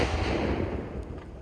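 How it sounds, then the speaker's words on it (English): Test shot of a planned explosion: a loud, broad blast rumble fills the opening moment and rolls off over about a second, leaving a fading tail with a few faint crackles. "we can blow something up. So we did a test shot."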